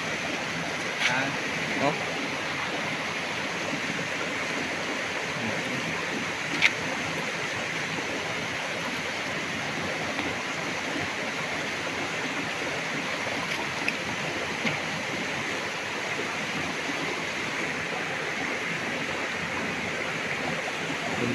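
Steady, loud rushing water with a surf-like roar like the sea, continuous throughout, with a couple of brief voice exclamations over it.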